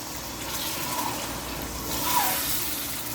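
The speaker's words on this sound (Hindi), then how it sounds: "अब हम इसमें 2 कप जो पानी ऐड करेंगे" Two cups of water pour and splash into a cooking pot of fried chana dal for a few seconds, a continuous broadband wash with a slight swell near the end, no talking.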